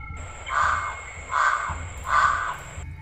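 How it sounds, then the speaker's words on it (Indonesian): Three loud caws from a crow, evenly spaced about a second apart, close by and clear against a quiet background. "riuh oleh suara burung gagak yang saling bersahutan"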